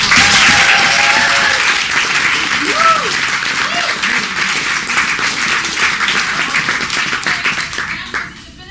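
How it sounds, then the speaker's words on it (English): A crowd breaks into loud, sustained clapping that stays dense for about eight seconds, a few voices rising through it, before it tapers off sharply near the end. "Let's give a round of applause."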